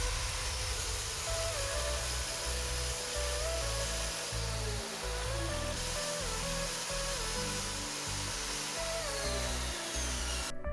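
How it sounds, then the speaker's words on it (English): Power drill boring holes into the wooden stiles of a media cabinet door frame, a steady whirring drone with pitch shifts as the bit bites and eases, continuous and close for the whole stretch. "I focus on drilling the holes in all of the stiles"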